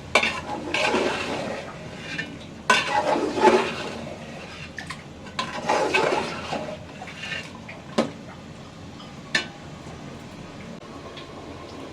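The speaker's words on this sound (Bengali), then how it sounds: "এখন আমি একটু নাড়া দিয়ে ঢেকে দিব" Biryani meat being stirred in oil in a pot, with scraping and sizzling bursts that come and go in waves, close and fairly loud, alternating with quieter simmering gaps and a few sharp clinks.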